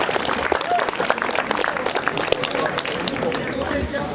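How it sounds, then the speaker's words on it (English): Crowd at a Gran Fondo cycling event near Villars-sur-Ollon applauds riders who qualified, steady clapping mixed with crowd noise while a voice talks over it. "On peut les applaudir"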